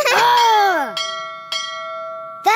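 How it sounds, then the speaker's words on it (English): Three loud bell strikes ring out in a cartoon about kittens heading to a boat dock, the first with a wavering tone and each leaving a long ringing decay. "That's three bells."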